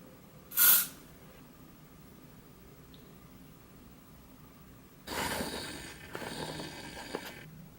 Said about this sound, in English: And I'll spray this one as well.